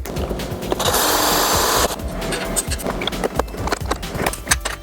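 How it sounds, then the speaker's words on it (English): A rivet is set into a Vespa floor rail during a scooter rebuild, with a loud, roughly one-second hissing burst from the tool amid workshop clatter and knocks, up close. "I need to put a rivet right here in the middle between these two"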